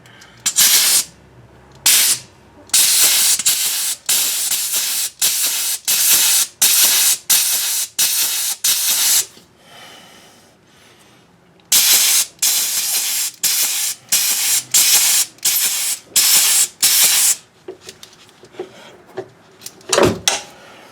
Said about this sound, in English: I'll grease this one back here.